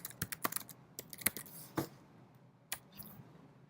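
Typing on a computer keyboard while entering text in a document, with irregular bursts of sharp, close key clicks separated by short pauses and no talking.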